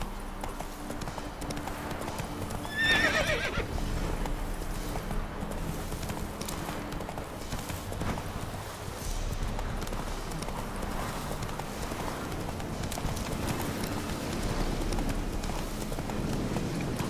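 A horse gallops in The Witcher 3 video game, its hooves clip-clopping in a steady, continuous rhythm over an outdoor ambient bed, with a brief brighter sound near the start.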